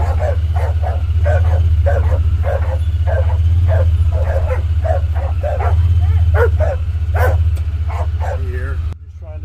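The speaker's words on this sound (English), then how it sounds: "Oh, dogs drive me nuts, won't they?" Small dogs bark and yip in a repeated, rapid series near a truck with its engine idling underneath, the barking continuing for several seconds before cutting off.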